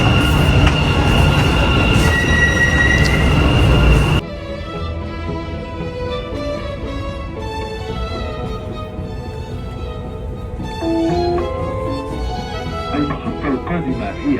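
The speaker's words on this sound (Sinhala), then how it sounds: "ඔන්න ට්‍රේන් එක ආවා." A Dubai Metro train pulling into a station, loud rumbling and rising mechanical hum with wheel squeal, then steadier rolling tones as it slows, with voices and station announcements mixed in.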